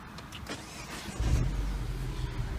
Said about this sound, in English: we start the car by pushing this button